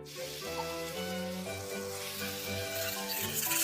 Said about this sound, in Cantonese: 咁我哋落油煸下啲牛肉先